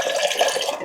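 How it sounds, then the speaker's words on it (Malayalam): Water poured from a vessel makes a short, steady splashing gurgle, close and moderately loud. "വെള്ളം ഒഴിച്ചു നോക്കാം"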